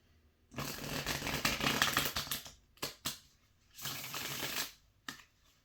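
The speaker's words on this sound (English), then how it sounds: "The reason I like these cards so much is because, well, they're easier to shuffle." A deck of cards is shuffled in quick riffling bursts, a long one, two short snaps and another burst, close and crisp with quiet gaps between.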